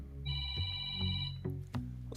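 A phone rings indoors with a tonal electronic ringtone pattern, repeated bursts sounding under background noise and faint voice activity, fairly close.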